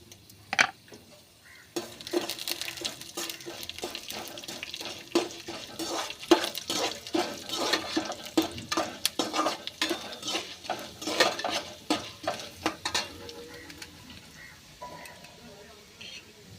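Chana dal and black urad dal fry in hot oil in a pan, with soft sizzling under repeated scraping and clinking of a spoon being stirred, while a person talks over the cooking.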